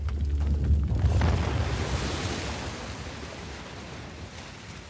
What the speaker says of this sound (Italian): Ecco che arriva l'acqua.